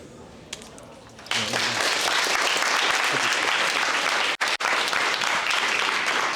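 At a Black History teach-in at the University of Florida, an audience bursts into loud, sustained applause for a speaker after a brief quieter stretch of talking, with two short drop-outs partway through.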